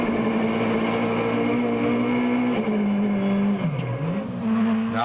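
Rally car engine heard from inside the cabin, driven through a sequential gearbox, a loud sustained roar with pitch holding steady, then dipping and climbing again as revs change, with no voices.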